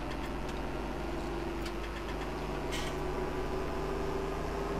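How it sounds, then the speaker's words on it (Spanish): A tractor engine in the Farming Simulator 17 video game runs with a steady low mechanical drone and rhythmic throb, holding an even idle-like level for a few seconds with faint clicks on top. "nos subimos nuevamente en el tractor y arrancamos"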